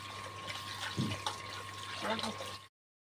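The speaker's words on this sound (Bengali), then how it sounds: "ভালো করে আগে ধুয়ে নিই, তারপর লবণ দিব, তারপর ভালোভাবে ধুয়ে নেব।" Freshwater snails being washed by hand in water, with faint splashing and sloshing over a low steady hum, heard close and quiet before the sound cuts off abruptly.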